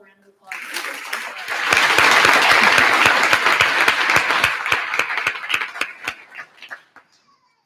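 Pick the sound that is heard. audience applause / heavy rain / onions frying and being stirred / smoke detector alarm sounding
audience applause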